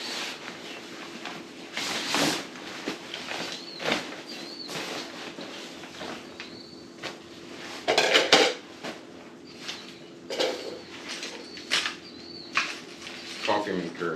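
A coffee maker and pods being handled and packed for a motorcycle backcountry trip. Sporadic clinks, clatters and plastic knocks at close range, some louder bursts, over a quiet background.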